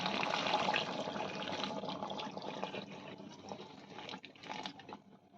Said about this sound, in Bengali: এবার আমরা এতে গরম জল অ্যাড করে দিচ্ছি।